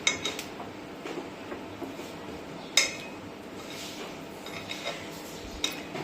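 A spoon stirs dum aloo potato gravy in a cooking pot, giving faint scraping and occasional sharp metallic clinks against the pot's sides over low background noise.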